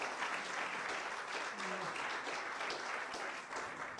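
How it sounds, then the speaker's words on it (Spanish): Sustained applause from a church congregation praising God during a Spanish-language sermon, steady, dense clapping throughout at moderate distance. "Denle un aplauso al Señor."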